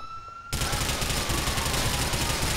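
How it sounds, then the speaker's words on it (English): Rapid bursts of gunfire directed at the player in GTA IV with the LCPDFR police mod, a dense continuous volley that erupts abruptly after a moment of quieter game noise. "Oh, you're gonna shoot at me now."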